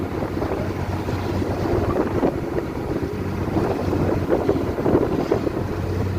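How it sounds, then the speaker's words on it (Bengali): A trawler engine drones steadily on the open Bay of Bengal while wind roars and big waves slap and churn around the hull, loud and continuous throughout. "প্রচণ্ড ঢেউয়ের পাহাড় ভেঙে ভেঙে চলছে ট্রলার"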